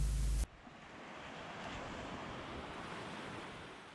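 Ocean waves on a beach at a kayak launch on the Central Coast in Cambria, heard as a steady broad wash of surf mixed with wind noise on the microphone after a brief loud burst at the start.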